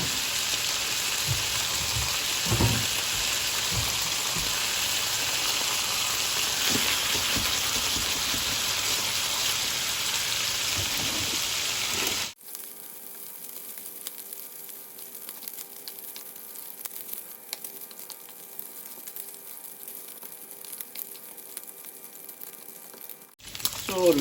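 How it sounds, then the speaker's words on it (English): Streaky pork bacon fries in a pan until brown and crispy with a loud, steady sizzle for about twelve seconds, then drops abruptly to a much fainter crackle. "Sort of getting lovely brown and crispy, and it's quite easy with streaky bacon to get this"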